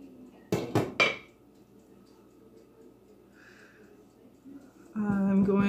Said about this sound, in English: So I'm going to give it a stir again.